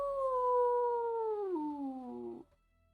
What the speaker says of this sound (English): It is a wolf's howl